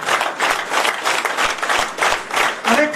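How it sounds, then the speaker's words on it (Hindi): A rally crowd at a Karni Sena workers' gathering in Jharkhand claps loudly and steadily, the dense applause swelling and fading in waves throughout. "और जोर से ताली बजनी चाहिए।"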